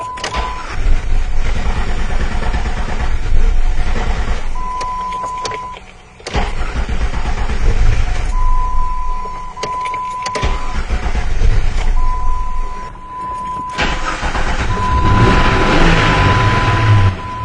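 A 2004 Jeep Cherokee with a cam/crank sensor fault cranks repeatedly without catching, with loud rough engine churning in several long bursts separated by brief pauses and a steady warning chime tone sounding over it.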